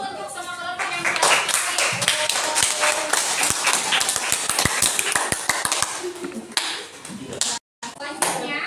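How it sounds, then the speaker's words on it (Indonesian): A classroom of students applauding a presenting group in an elementary science lesson: sustained, dense clapping from many hands, loud and close, mixed with voices and a few sharper individual claps. "kasih aplaus dulu untuk kelompok 1"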